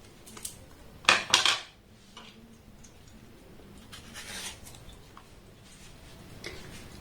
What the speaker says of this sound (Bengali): প্রথমে আমের খোসাটাকে আমি একটু ভালোভাবে ছাড়িয়ে নেব।